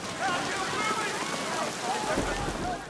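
Rain falls in a film scene, a continuous hiss of drops under voices speaking.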